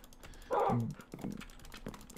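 A dog in the video game Minecraft gives a couple of short, high whimpering yelps, faint and close, over soft computer keyboard typing.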